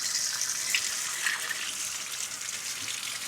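Strong, steady rush of water from a tap into a large sink at a campsite, close and continuous without pause.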